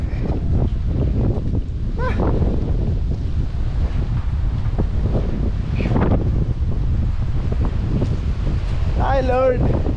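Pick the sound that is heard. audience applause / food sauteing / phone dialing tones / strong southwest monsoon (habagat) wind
strong southwest monsoon (habagat) wind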